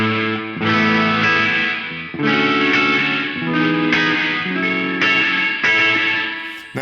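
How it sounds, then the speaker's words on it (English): Electric guitar chords played through the Safari Pedals Dirty Room reverb preset, loud and distorted, with several strummed chords ringing into a thick, washy room tail. "let's look at electric guitar Dirty Room"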